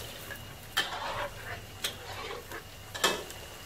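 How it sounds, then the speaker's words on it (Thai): Thin slices of sweet sugared pork frying slowly over gentle heat in a pan, a soft, quiet sizzle broken by a few light scrapes and taps of a utensil, with no talking. "เราก็ต้องค่อยๆทอดใจเย็นๆนะคะถ้าเกิดเราใช้ไฟแรงเกินมันก็จะไหม้นะคะ"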